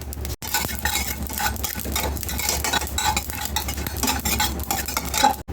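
Whole cumin and coriander seeds dry-roasting in a pan, a dense continuous sizzle and rustle with steady stirring scrapes running throughout, close and fairly loud, no talking.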